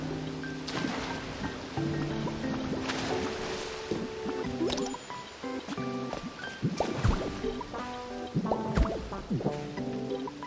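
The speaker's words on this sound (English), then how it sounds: "Now, has that stopped the water from flowing?" Water flows and splashes in the Pokémon Pokopia video game, a steady watery wash with drips and bubbly bursts set among melodic game music and tones.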